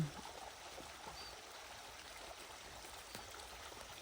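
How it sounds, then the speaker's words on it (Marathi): Faint, steady gurgle of water flowing and trickling from a motor pump in a sugarcane field, continuous and even throughout, with no talking. "मोटर चालू आहे पाणी बघा"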